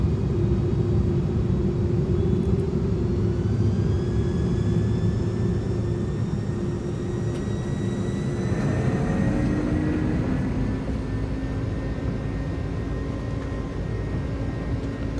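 Jet engines of a UPS Airbus A300F freighter spool up for takeoff in the MSFS flight simulator, a steady loud rumble with rising whining tones that climb and shift midway, continuous and without talk.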